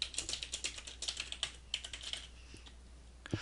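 Typing on a computer keyboard while editing single-line text in AutoCAD: a quick run of close, light key clicks in an uneven rhythm, then a pause and a couple of isolated key taps.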